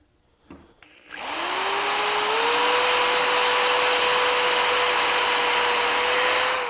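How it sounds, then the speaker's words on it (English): After a couple of brief clunks, a power drill spins up and bores steadily through a clamped wooden foot into the leg of a CD/DVD storage cabinet, its whine rising then holding loud and continuous. "I'll very carefully drill down through the foot into the leg area."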